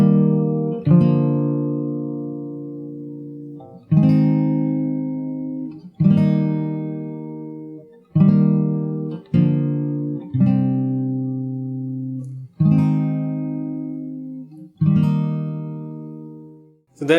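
A guitar plays the chorus of a song from The Last of Us Part II, with strummed chords rung out in separate bursts every two seconds or so, each left to decay, close and clear with no talking.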